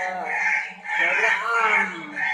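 A crow-call ringtone plays harsh, tonal bird cries in two drawn-out phrases with a short dip between them, loud and close.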